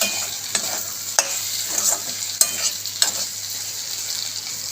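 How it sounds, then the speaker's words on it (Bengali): Steady sizzling of eggplant, potato and shrimp frying together, punctuated by several distinct scrapes and taps of a spatula stirring the pan, close and without talk. "ভাজা মোটামুটি হয়েই এসছে বেগুন আলু সব লাল লাল হয়ে গেছে তার সাথে চিংড়ি মাছও"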